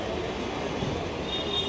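A suburban train rolls through Ghatkopar station in Mumbai, a steady rumble with a faint high squeal near the end, heard amid platform noise.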